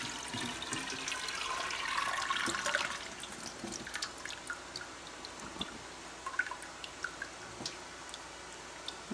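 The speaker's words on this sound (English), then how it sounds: "And then you drip all over the floor and into your pot." Water from potatoes being preserved in citric acid water drips onto a floor and into a pot: a brief pouring splash at first, then scattered single drips tapping at irregular intervals, fairly quiet.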